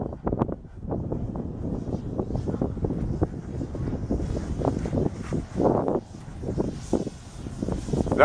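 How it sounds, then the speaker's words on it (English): Strong gusty wind buffets the microphone during a windy RC plane flight, a Dynam Sbach in 15 to 20 mph wind, with loud uneven low rumbling gusts throughout. "he was fighting the wind"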